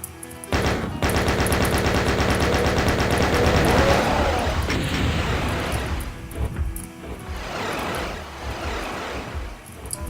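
A chaingunner enemy firing in a Doom mod map from Djinn: a long, loud, rapid stream of shots lasting several seconds, then fading into scattered blasts and rumbling game noise.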